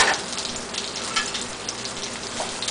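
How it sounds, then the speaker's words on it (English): Chopped onions sweat in a pot for seafood chowder, giving off a soft, even sizzle and crackle like light rain, steady and fairly quiet, with no talking. "you've got to sweat the onions"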